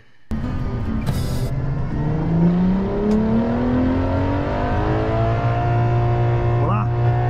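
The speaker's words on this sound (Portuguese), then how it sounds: "Apontou o pé fundo. 9 mil giros! O carro tá balançando aí na traseira!" A Ferrari LaFerrari engine revs hard toward 9,000 rpm, a loud sustained howl climbing steadily in pitch and holding high. Voices are heard over it.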